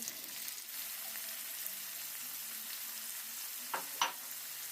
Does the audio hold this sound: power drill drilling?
no